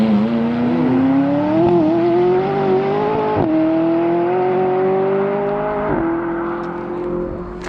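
McLaren 570S Spider driving past on a mountain road, a smooth rising engine whine that climbs through two quick upshifts, holding near and loud before easing off as it pulls away.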